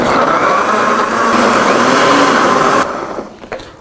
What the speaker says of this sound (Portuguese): eu vou bater tudo isso aqui agora